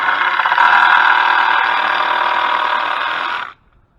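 A power drill drives 3-inch deck screws into wood while raised garden beds are built, giving one loud, steady close whir that runs for about three and a half seconds and then cuts off abruptly.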